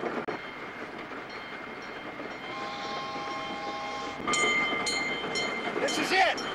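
A train crossing a trestle, with a steady rumbling roll, a brief tonal whistle-like line in the middle, then louder rattling clatter toward the end, moderately distant.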